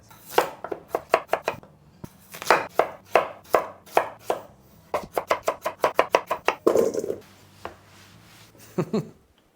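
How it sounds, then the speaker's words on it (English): A knife chops washed potatoes on a cutting board in quick bursts of sharp close taps, pausing between rounds, then finishing with a few slower cuts. "once you get the potatoes washed, we're just gonna chop these up"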